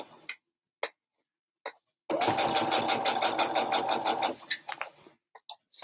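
A sewing machine backstitching to anchor a seam runs in one close, rapid burst of about two seconds, with faint isolated clicks just before and after.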